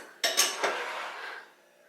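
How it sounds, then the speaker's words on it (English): Dishes and cutlery clatter as a dishwasher is unloaded at home, a couple of close clinks and scrapes of plates and silverware followed by a brief fading rattle. "unloading the dishwasher definitely is good."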